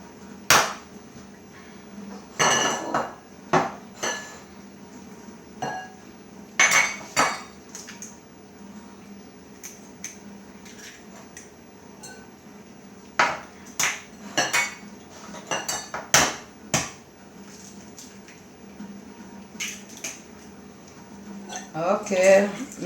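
Eggs, melted butter and sugar being whisked in a bowl for blintz batter, with repeated clinks and scrapes of a utensil against the bowl in uneven bursts, close and fairly loud.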